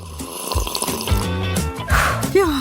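Water splashes and pours briefly during a mustard-heavy food challenge, mixed among other nearby noises and a tonal background.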